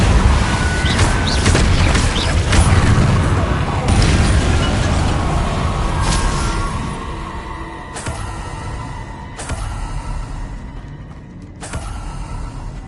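Spell-casting explosions from the video game Hogwarts Legacy, dense loud booms and crackling bursts in close succession, thinning out into sharper separate blasts toward the end.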